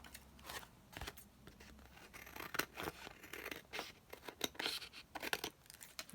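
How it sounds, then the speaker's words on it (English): Scissors snip fabric scraps for a desk collage in a quiet room, producing a series of close, crisp cutting clicks and rustles at an irregular pace. The sounds are soft, and no one speaks. "So we just snip this one down."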